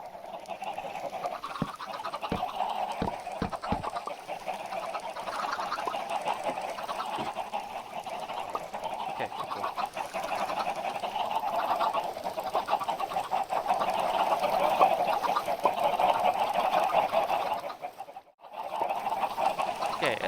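Minecraft chickens cluck and squawk steadily throughout, with a few sharp clicks early on and a brief drop to near silence late.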